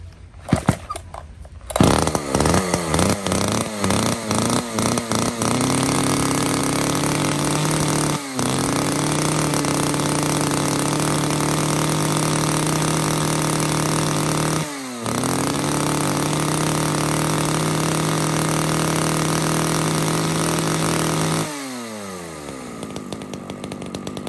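Used Japanese chainsaw, model D7, with a small mini chain, is pull-started and then revs up and idles loud and close, a sustained buzzing drone broken by a few brief cut-outs before it winds down.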